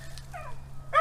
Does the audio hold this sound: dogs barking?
yes